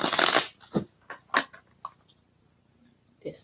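A Vision Tarot card deck is shuffled up close in a burst of crisp riffling, followed by a few softer card taps and slides, then near silence.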